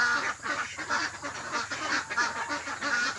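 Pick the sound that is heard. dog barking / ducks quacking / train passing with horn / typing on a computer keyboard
ducks quacking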